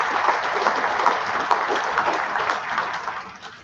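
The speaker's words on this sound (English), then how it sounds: "Let's give our coaches a big round of applause." Awards-night audience applauding the college's coaches, a dense, steady wash of clapping from a full room that holds even for a few seconds, then begins to fade.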